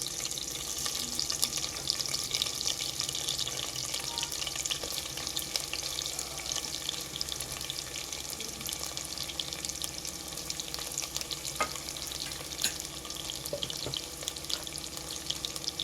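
Two medium onions, sliced lengthwise and salted, fry in a pan for mushroom pulav, giving a steady, close sizzle with faint crackles and occasional scraping throughout.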